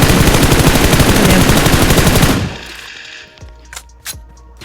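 Rapid automatic gunfire from the battle royale game PUBG, a loud continuous burst of closely spaced shots for over two seconds, then cutting off into quieter game ambience with a couple of faint distant thuds.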